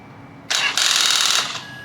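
A Harley-Davidson motorcycle engine on a weak battery turns over briefly in a loud burst, pauses for a split second, then cranks again for under a second before stopping.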